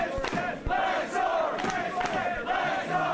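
A wrestling arena crowd roars and cheers during a Lance Storm versus Christian Cage bout, a dense, sustained wall of voices with rising chants and swells of excitement throughout.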